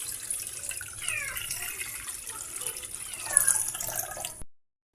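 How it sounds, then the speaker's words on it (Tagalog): Water is poured into a cooking pot for Filipino vegetable soup (sinabawang gulay), a steady splashing, trickling stream that runs nearly continuously for about four seconds at close range and then cuts off. "Tubig mga sis."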